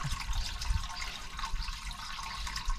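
Gurgling water in a toilet drain in an old building while a pipe-cleaning spiral clears a blocked line, a continuous close bubbling and sloshing wash with low rumbling underneath.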